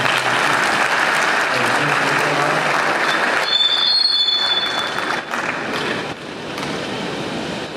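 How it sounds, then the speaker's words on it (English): A large audience at a Nigerian Defence Academy convocation lecture gives the commandant a round of applause. The clapping is loud and dense and holds steady for several seconds, then thins slightly toward the end. "round of applause for the commandant."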